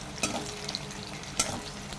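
Chopped onion, garlic cloves and torn green chillies fry in a pan for a chicken curry, a steady close sizzle with two sharp stirring clatters.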